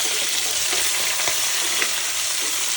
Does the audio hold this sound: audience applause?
no